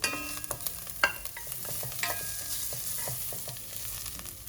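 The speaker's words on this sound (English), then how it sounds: "We'll fry them until we can smell the ginger as well as the shallots." Shallots, ginger, garlic and sliced rehydrated dried mushroom frying in a pot, a soft continuous sizzle with frequent spatula clicks and scrapes, close but fairly quiet, with no one talking.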